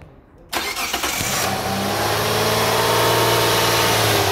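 A car engine cranks and fires up after a brief quiet moment, then settles into a steady, loud idle close by.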